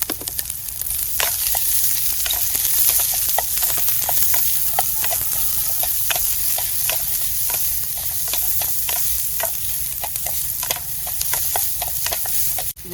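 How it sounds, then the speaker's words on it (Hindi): Chopped onion and capsicum sizzle in hot oil in a pan at a forest campsite, a steady close crackling hiss with scattered pops that runs unbroken to the end. "देखिए ऑयल गर्म हो चुका है और ये रही इसके अंदर प्याज"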